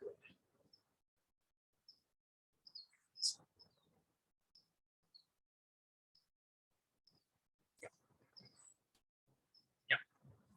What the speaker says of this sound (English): Hey, there's today's hummingbird. It's the same hummingbird.